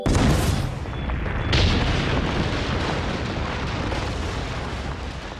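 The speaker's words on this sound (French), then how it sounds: "Vous êtes prêts à affronter l'explosion?" A cartoon gas explosion bursts as a loud broadband boom and then settles into a long, rumbling roar that slowly fades, with no voices over it.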